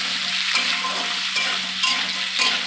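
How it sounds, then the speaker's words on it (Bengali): Cubed potatoes fry in oil with cumin seeds in a pan, a steady close sizzle broken by several soft scraping stirs at regular intervals. "একটু ভেজে নেবো, একটু সুন্দর করে ভেজে নেবো।"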